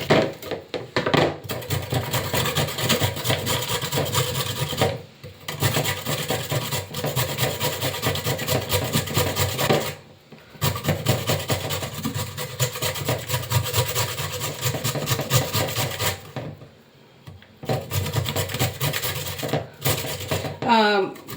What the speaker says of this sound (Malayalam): സോ ഞാൻ ഇതാദ്യം ഗ്രേറ്റ് ചെയ്ത് എടുക്കട്ടെ.